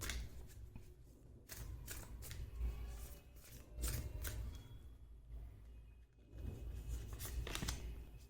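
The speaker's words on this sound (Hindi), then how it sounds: "मैं कुछ और कार्ड्स भी लेना चाहूंगी।" Tarot cards being shuffled and drawn from a deck during a card reading, with several bursts of quick riffling and flicking that come close up and clear, separated by brief pauses.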